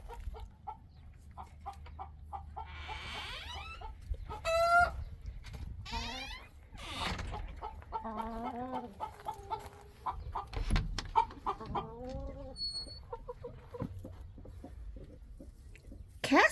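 A broody hen makes a racket in a backyard flock, giving loud, close, insistent clucks and squawking calls with a few softer bird sounds in between, while a person talks quietly at times.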